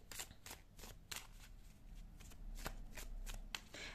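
Tarot cards are shuffled and drawn in a quiet card-reading setting, with a string of soft, crisp riffling flicks and slaps at an irregular rhythm, close by and fairly faint, with no talk.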